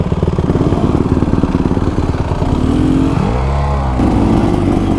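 A 2024 Beta Xtrainer dirt bike engine drones loudly and steadily while being ridden through sandy, muddy washes, its pitch dipping and swelling with throttle changes and no voices over it.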